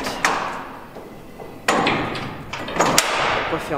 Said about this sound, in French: Je vais juste fermer la porte.